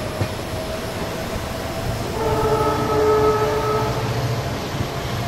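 The Dhule–Mumbai Express rumbles steadily along, with a tonal horn or squeal rising midway for about two seconds over the continuous rolling noise, heard from on board.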